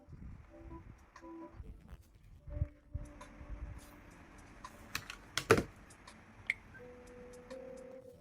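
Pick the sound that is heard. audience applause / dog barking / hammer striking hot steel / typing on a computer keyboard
typing on a computer keyboard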